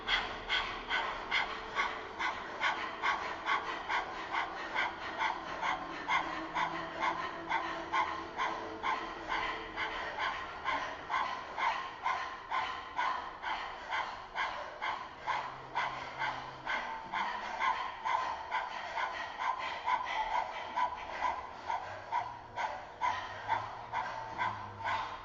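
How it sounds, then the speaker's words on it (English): Heavy, rapid panting breath with the tongue out during a Kundalini kriya, a steady fast rhythm of short breathy puffs continuing throughout, close and fairly quiet, with no talking. "Keep that tongue out, heavy panting like a dog."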